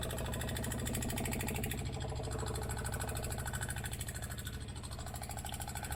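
Fuel polishing pump filtering diesel on a Carver boat, a continuous close rhythmic mechanical hum with a fast regular pulse, running alone without voices.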